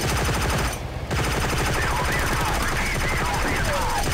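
Dense, rapid machine-gun fire in the Wii shooting game Heavy Fire: Special Operations, loud and continuous with a brief gap near the start, over game sound effects.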